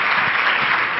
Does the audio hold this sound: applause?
yes